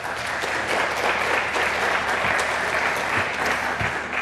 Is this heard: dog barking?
no